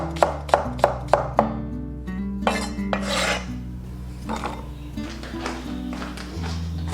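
A kitchen knife slicing scallion, ginger and garlic on a cutting board, first with a quick run of sharp evenly spaced chops, then looser, scattered cuts nearby.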